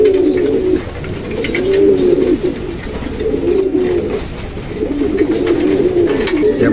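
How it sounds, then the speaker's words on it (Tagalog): Pigeons resting on the ground with other pigeons coo repeatedly in low, throaty, rolling phrases close by. Softer chirps and calls sound in the background throughout. "nasa lapag na po sila kasama nung ibang kalapati natin"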